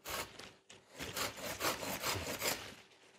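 A hand saw cutting a branch on a large wild cherry bonsai, a few rasping back-and-forth strokes, close but fairly soft, with no talk.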